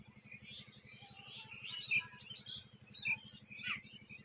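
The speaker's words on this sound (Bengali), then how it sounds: "কি সুন্দর পাখিগুলো ডাকছে দূরে দেখতে পাচ্ছ" Distant birds chirp in short, scattered calls over a steady low rhythmic hum in a tea garden under hot sun.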